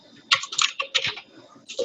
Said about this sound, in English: I thought I'd simply type in playground,